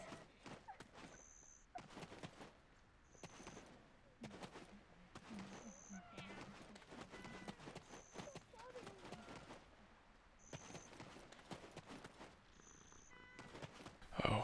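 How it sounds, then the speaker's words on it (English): A cat purrs in the Black Desert Online video game, a soft rhythmic purr mixed with other game sounds and a few sharper clicks, fairly quiet overall. "Oh, I hear one purring."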